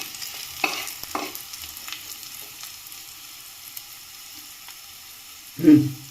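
Onion and garlic fry in a pan as the base for a homemade cream of broccoli soup: a soft, steady sizzle with a few light utensil knocks, then a louder scrape or stir near the end.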